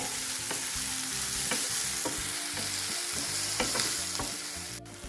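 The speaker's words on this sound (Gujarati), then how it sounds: "એને સાતળી લઈએ એનો પણ કલર લાલ થાય ત્યાં સુધી સાતળવાનો છે" Finely chopped onions sauté in a pan for maa ki daal with a steady, close sizzle, broken by stirring scrapes and a sharp clink near the end.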